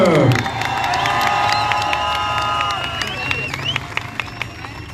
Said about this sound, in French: Allez, mesdames et messieurs, faites-moi un tonnerre d'applaudissements